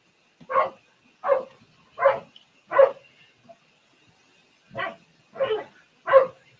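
Dog barking outdoors in a steady series of seven sharp barks, four in quick succession, a short pause, then three more, moderately distant and clear with no talk over them.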